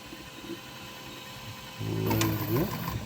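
A 3D printer loading black filament: quiet background at first, then the extruder motor starts a close mechanical whirring buzz with small pitch shifts as filament is pushed through.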